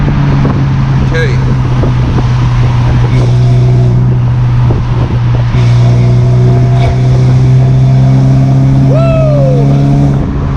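Steady engine drone from a BMW 1 Series E88 coupe heard inside while driving, with constant road and wind roar and a rising pitch sweep near the end as it downshifts and accelerates; a person talks over it briefly.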